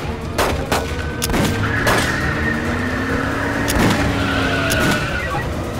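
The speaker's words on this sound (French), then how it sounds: "Coup de feu, on a des coups de feu." Gunfire during a car chase in a French action film: sharp shots crack several times over a revving car engine and screeching tires, loud and close.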